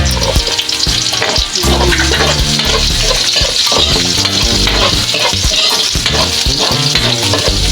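Onion and garlic sauté in a pan for a mung bean dish, giving a loud, steady sizzle with frequent scraping stir strokes close up throughout.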